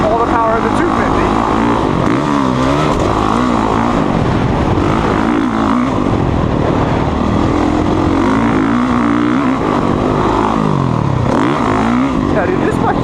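A Honda CRF450R dirt bike engine while riding, loud and continuous with a wavering, rising and falling roar as the throttle changes, buffeted by wind noise throughout.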